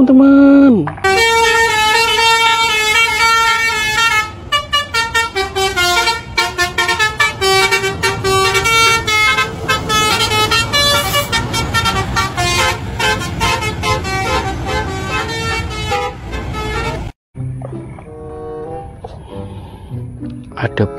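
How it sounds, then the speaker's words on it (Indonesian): A Rosalia Indah bus sounds its loud musical multi-tone horn, playing a rapid, continuous melody of honks for about sixteen seconds before it cuts off abruptly, leaving faint background noise. "Ada bus Rosalia"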